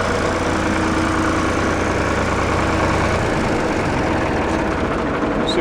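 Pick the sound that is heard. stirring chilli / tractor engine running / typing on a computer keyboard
tractor engine running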